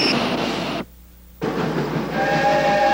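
A train rumbles and rolls steadily as it gathers speed, the loud continuous noise dropping briefly to near silence midway before returning with a faint high whistle-like tone toward the end.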